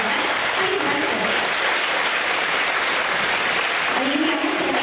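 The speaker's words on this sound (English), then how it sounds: "Let's give Andy a round of applause." Steady, loud applause fills a room at a fourth grade awards event for a student with perfect attendance, dense continuous clapping from a crowd with faint voices underneath.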